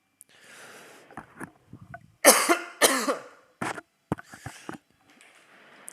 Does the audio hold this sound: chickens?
no